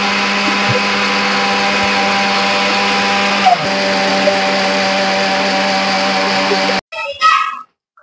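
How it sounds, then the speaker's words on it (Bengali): A kitchen blender grinds spices into a paste for a prawn curry, running with a loud, steady whir for several seconds before cutting off, followed by a brief rattle. "এবার আমি মশলাটাকে পেস্ট করে নেব।"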